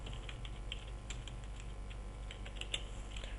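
Light, quick clicks of fingers typing on a computer keyboard while entering a heading in Word 2007, faint and close, in short irregular bursts.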